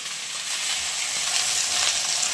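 Okra (ladies finger) frying in a pan for a masala sambar, a steady, dense sizzle with a broad hiss running evenly throughout, close and fairly loud with no voices.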